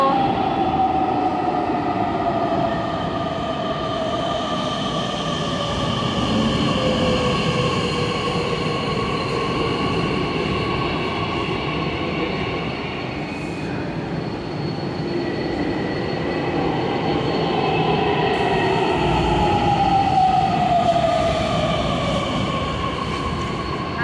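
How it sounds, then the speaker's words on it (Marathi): A metro train pulls into a station platform with a loud, continuous rumble, rising and falling electric motor whine and faint wheel squeal, heard up close throughout. "आली मेट्रो, बघा तुम्ही पण आली."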